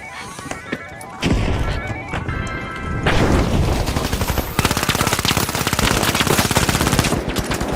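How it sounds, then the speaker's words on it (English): Rapid automatic gunfire rattles loud and close in the shooter game The Finals, with a frag grenade blast and crashing debris amid sustained bursts of shots. "Frag grenade out."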